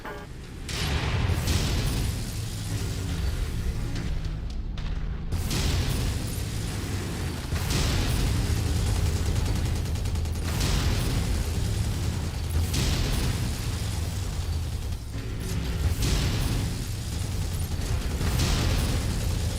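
Repeated heavy missile explosions and booms in the mech combat game MechWarrior 5, loud and dense, rolling in waves every few seconds over continuous low rumble with no talk.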